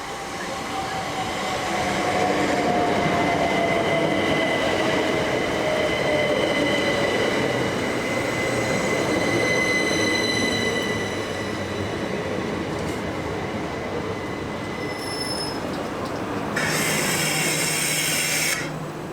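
An eight-coach train rumbles steadily past at Headcorn railway station with rolling wheel noise and a faint squeal, then a brighter burst of hissing near the end.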